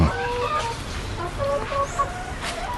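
Chickens cluck in short, repeated bursts at close range over a steady background hiss.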